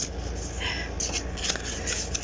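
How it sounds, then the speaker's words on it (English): An oracle card deck is overhand shuffled by hand, soft papery riffling and sliding with a few brisk flicks, close and quiet. "Let's try to do an overhand shuffling."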